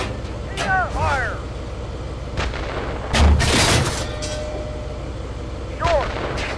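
Leopard 1A5 tank cannon firing a HEAT round in Steel Beasts, a heavy boom around the middle standing out over constant engine rumble, with radio-style voices talking before and after.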